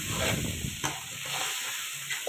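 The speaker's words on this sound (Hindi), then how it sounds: "1 चम्मच काली मिर्च शामिल करने के बाद हम लोगों ने इसको अच्छे तरीके से मिक्स करना है।" Mutton karahi seasoned with black pepper being stirred in a pan, a close spoon scraping through the meat over a steady sizzle, with a few brief louder scrapes and no talk.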